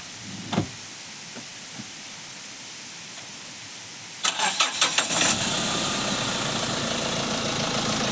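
A Mahindra Xylo diesel MPV cranks over several times in quick chugging bursts, then catches and settles into a steady, close idle hum; a few faint clicks precede the start and no one speaks.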